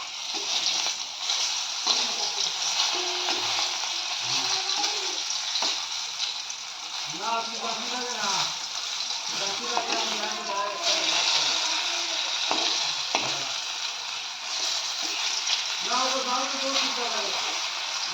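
Potatoes and pointed gourd frying in oil in a home kitchen, a continuous bright sizzle running throughout, with someone talking over it at intervals.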